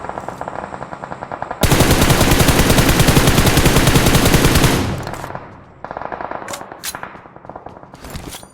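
Automatic gunfire in a BGMI battle royale match: a long loud sustained burst of rapid shots, with shorter volleys before and after.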